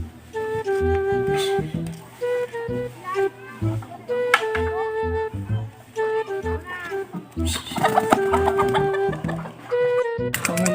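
Chickens cluck and squawk in bursts, close by, with a rooster-like call among them; a few scattered noises in between, no clear speech.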